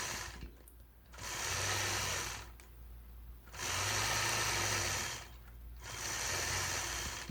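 A sewing machine quilts a star block in the ditch, whirring in three sustained runs with short pauses between, fairly quiet and steady over a low background hum.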